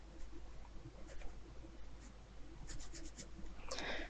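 Pencil scratching across paper while drawing a person, with soft irregular strokes close by and faint pigeons cooing in the background toward the end.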